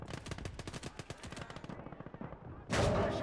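A 37 mm cannon in a World War II video game fires rapid, evenly spaced rounds for almost three seconds, then a louder blast of heavy gunfire follows, loud and close with no talk over it.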